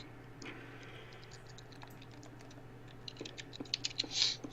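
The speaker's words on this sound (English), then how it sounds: "Typing." Typing in the Koudelka video game sounds as faint, quick keyboard clicks scattered over a low steady hum, growing denser and sharper toward the end.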